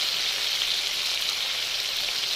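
Slices of elephant apple (outenga) fry in hot oil with mustard-type five-spice seeds, giving a steady, close, bright sizzle with a dense crackling texture and no voices.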